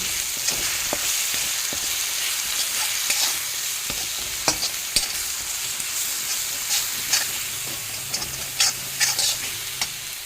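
Spices with cumin and coriander powder fry in a pan, a steady sizzling hiss broken by scraping stirring clicks, close and continuous, for a green fish curry.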